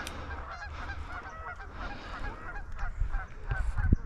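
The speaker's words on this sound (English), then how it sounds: "Further away, I see a bunch of geese." A flock of geese honks outdoors at a distance, many overlapping calls in an irregular chorus that grows louder toward the end.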